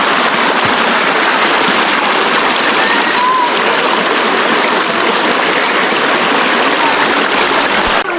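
Steady rushing water flows at an outdoor bathing spot in front of a hut, a continuous broadband wash that stays loud and even throughout with no clear breaks.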